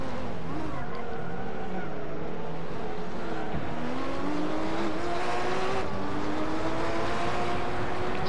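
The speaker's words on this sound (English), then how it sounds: "There's a gaggle of GT4 cars following the Lamborghini" GT4 race cars roar past continuously, engines droning and rising in pitch as they accelerate, with a steady loud rumble throughout.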